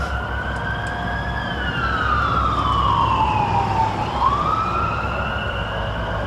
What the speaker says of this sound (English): There goes your sirens.